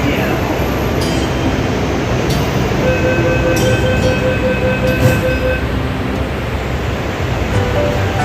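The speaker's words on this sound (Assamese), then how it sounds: "মেট্ৰ'ত আছোঁ, খান মাৰ্কেট মেট্ৰ' ষ্টেচন পাইছোঁ" A Delhi Metro train rumbling steadily inside Khan Market station, loud continuous roar with faint tonal whines rising and fading.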